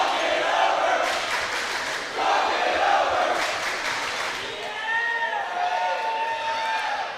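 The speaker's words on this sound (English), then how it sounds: "Crowd has certainly not diminished at all here in the second set." High school volleyball gym crowd cheering during a timeout, a steady moderately loud roar with bursts of yelling and shouts, fading slightly toward the end as a voice rises over it.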